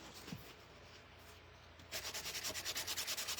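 Sandpaper rubbing over a carved woodblock to give it a faded look, quiet scraping at first, then a steady run of rhythmic back-and-forth strokes growing louder and closer.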